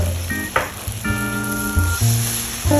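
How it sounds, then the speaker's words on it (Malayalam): Prawns sauté in masala with turmeric for a Kerala prawn roast, a continuous hissing sizzle under prominent background music with changing tones. "എന്നിട്ട് എല്ലാം കൂടെ നന്നായിട്ട് വഴറ്റുക."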